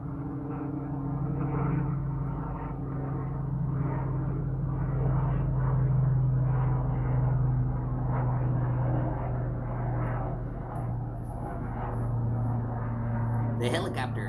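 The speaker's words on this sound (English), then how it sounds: "The helicopter, the helicopter." A helicopter flies overhead, giving a continuous, fairly loud droning engine hum with steady tonal harmonics that swells slightly mid-pass, while voices talk over it.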